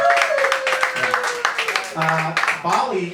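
Scattered audience clapping at a stand-up comedy show in Taiwan, a loose patter of hands rising and fading, mixed with voices and brief cheers from the crowd.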